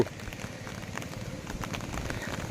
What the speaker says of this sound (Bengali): প্রচণ্ড জোরে বৃষ্টি আসছিস।